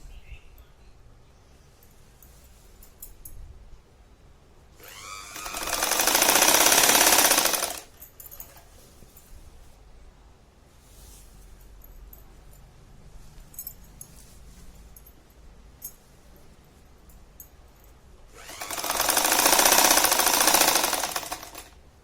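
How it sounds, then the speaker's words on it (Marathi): Sewing machine stitching along the hem of a petticoat, heard as two loud sustained runs of rapid mechanical whirring, one early and one near the end, separated by a quieter stretch with faint handling noise. "असा संपूर्ण पेटीकोटचा घेर आहे ना, तिथे अशी शिलाई मारून घ्यायची"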